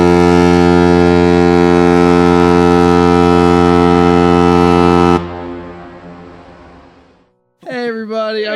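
A very loud, sustained foghorn blast like a cruise ship horn drones steadily for about five seconds, then cuts off into a fading echo before a voice starts speaking.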